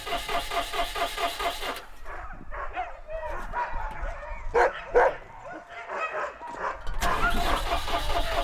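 A kennel of about a hundred husky sled dogs in Lapland erupts in a loud chorus of howls and barks, dipping to scattered, quieter yelps in the middle before the massed howling swells again.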